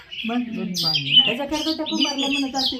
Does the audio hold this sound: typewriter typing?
no